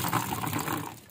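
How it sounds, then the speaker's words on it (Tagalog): Water gushes strongly from a sink faucet in an outdoor kitchen, a dense steady rush heard close by that eases off slightly at the end. "Malakas ang tubig nito."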